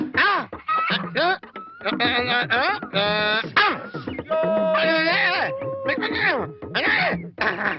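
Clucking and squawking chickens, loud and close, with harmonic calls piling up and overlapping nearly nonstop, alongside talking voices.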